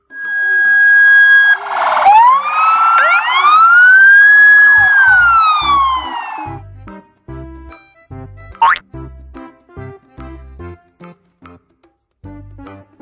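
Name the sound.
police car siren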